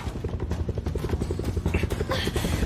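A helicopter nearby, its rotor thudding in fast, steady beats with a low engine drone under them, while a voice talks over it.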